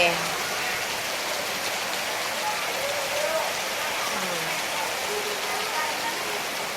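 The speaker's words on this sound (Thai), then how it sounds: "ฝนตกลงมาชาวนาดีใจ" Steady rain pours down in a dense, even patter, with a faint voice now and then beneath the downpour.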